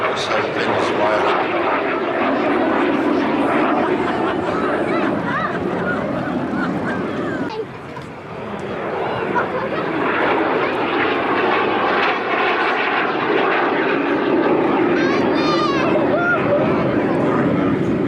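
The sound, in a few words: aircraft flying past at an airshow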